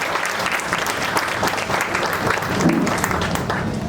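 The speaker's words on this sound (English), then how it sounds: "Please give them a big round of applause." An audience at a university lecture event in Delhi breaks into applause after a Saraswati Vandana performance, a dense, even wash of clapping lasting several seconds with no talk.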